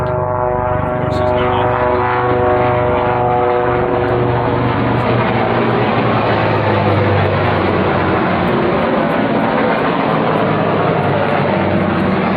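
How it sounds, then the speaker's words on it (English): A big helicopter roars low overhead across a yard, a loud, steady engine and rotor drone with a humming tone that fills the whole stretch without letup. "Some big helicopter just flew right over the top of the yard."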